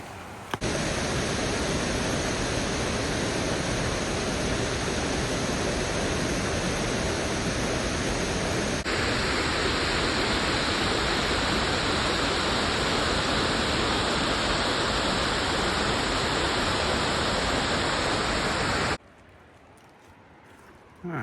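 A river waterfall at Opossum Creek Falls in Sumter Forest roars as a steady, loud broadband rush that continues unbroken for many seconds before dropping away abruptly near the end.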